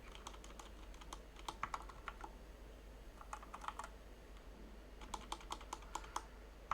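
Fingers type on a computer keyboard in quick bursts of soft clicks with short pauses between them, faint and close, with no talk.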